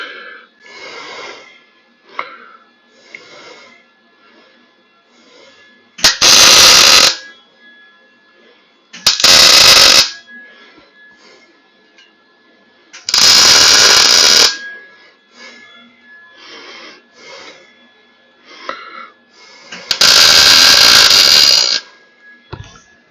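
Tack welding steel with a C-clamp in place, four separate loud bursts of harsh, hissing arc noise, each lasting one to two seconds, with quieter rustling and clinking between the welds.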